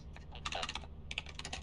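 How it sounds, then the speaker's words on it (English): Rapid computer keyboard typing in two bursts of clustered key clicks, close and fairly quiet, with a brief pause between them and no talking. "I like just watching the guy typing, it's pretty great."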